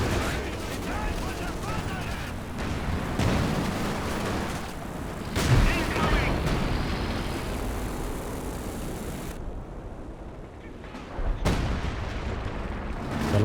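Counter-barrage from LFH howitzers in Company of Heroes 2, with repeated booming artillery impacts and rattling gunfire under a commentator's voice, rising in several heavy bursts.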